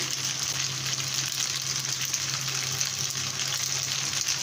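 Steady frying sizzle from a pan of chicken pasta as cucumber goes in, a continuous bright hiss held at an even level throughout with no talking.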